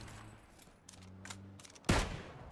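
Gunshots in a video game shootout near a warehouse: quiet background with faint tones, then a single sharp, loud burst of gunfire near the end.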